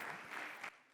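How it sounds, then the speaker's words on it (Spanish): An audience at a tax debate claps after a speaker, a short, faint patter of applause that cuts off abruptly after well under a second. "Un aplauso, por favor."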